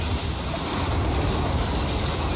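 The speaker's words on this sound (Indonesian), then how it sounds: "Kalau tidak kita terkena ombak." Ocean waves wash steadily onto a shore in a side-scrolling puzzle game, a dense, continuous roar of surf with wind-like hiss and no voices.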